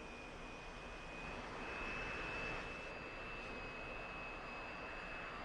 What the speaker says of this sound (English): to hear that distinctive whistle from the Saturn engines